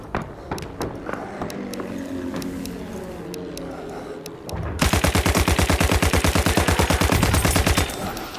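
Gunfire in the Battlefield 1 beta: scattered single shots and distant pops give way to a loud, rapid, evenly spaced automatic burst lasting several seconds.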